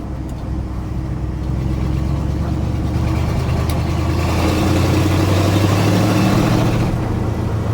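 A restored Dodge W200 truck engine on dry-rotted tyres, running rough and stumbling under throttle with a steady, low rumbling drone close by.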